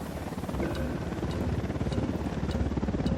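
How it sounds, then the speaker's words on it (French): A helicopter approaching in the video game Ghost Recon Wildlands, with loud, close, rapid rotor thumping over a heavy low rumble that grows slightly stronger. "Un hélico, tous à terre."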